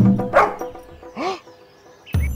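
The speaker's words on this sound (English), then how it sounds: "Let me growl, snarl, and bark at them." A cartoon dog in a children's bedtime story lets out a few sharp barks and yips, with short bursts separated by brief pauses and a final close, loud bark.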